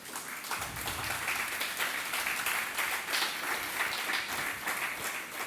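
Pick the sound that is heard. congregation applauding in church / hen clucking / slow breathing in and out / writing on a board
congregation applauding in church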